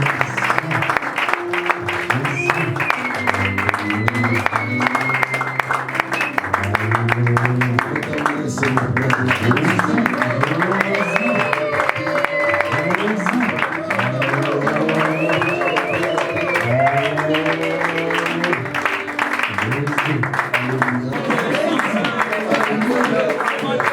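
A church congregation at a worship service applauds and acclaims God, with continuous clapping and overlapping raised voices and singing forming a steady, dense wash throughout.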